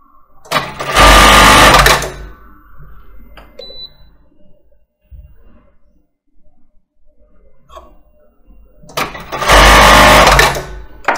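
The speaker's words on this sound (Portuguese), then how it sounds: "E agora eu vou fazer o acabamento no final das costuras." A sewing machine runs in two loud bursts of a couple of seconds each while finishing the ends of seams on a short. Between the bursts there are quiet handling noises, and no one speaks.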